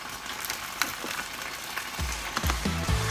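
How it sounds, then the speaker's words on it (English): Two bacon slices sizzle in a frying pan, a bright crackling fizz with scattered pops that grows louder and busier toward the end, heard close with no talking. "Now you can hear it sizzling."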